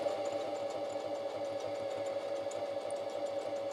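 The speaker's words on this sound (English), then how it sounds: "now it's doing the satin stitch up the side." A Singer Heavy Duty sewing machine runs steadily through a buttonhole satin stitch, its rapid needle chatter forming a continuous, even mechanical whir close by with no pauses.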